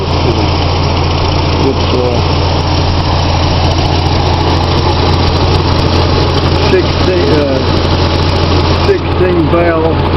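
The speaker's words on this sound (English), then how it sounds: "16 valve Mazda motor." A 1991 Mazda Miata convertible's 16-valve engine idles with a steady low hum throughout, someone talking over it at close range.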